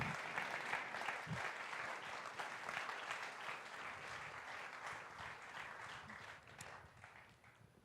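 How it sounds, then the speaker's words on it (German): Steady applause from a church congregation during a livestreamed service, sustained and even for several seconds with no talk over it. "Darum gebt Ihnen beiden doch jetzt einen herzlichen Applaus"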